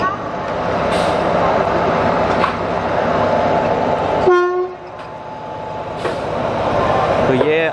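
A Shatabdi Express running from New Delhi toward Kalka, hauled by a Ghaziabad WAP-7 electric locomotive with a banker engine attached at the rear: a continuous loud rumble of wheels and carriages, with a sharp horn blast midway, heard from inside a coach.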